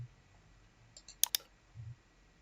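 Old manual typewriter giving a couple of quick mechanical clicks, a tight pair of sharp snaps with a lighter tap just before, close and fairly quiet against near silence.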